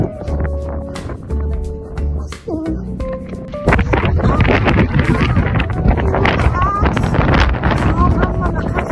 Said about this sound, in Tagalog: Sobrang malakas yung hangin.